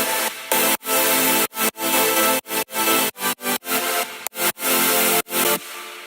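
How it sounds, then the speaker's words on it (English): Thick, bright saw-stack synth chords for melodic dubstep in a future bass style, loud and full-range, playing alone in a chopped rhythm of about a dozen stabs and short sustained hits separated by sharp gaps. "Now the best part, I guess, the saw stacks."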